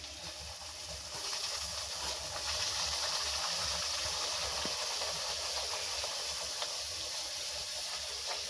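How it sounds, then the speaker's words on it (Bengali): Luchi, a puffed flatbread, fries in hot oil in a kadai, a continuous broadband hiss that swells after the first second and holds steady and close, no voices. "এবার লুচিটা দেব, তেলে ছেঁকে নেব"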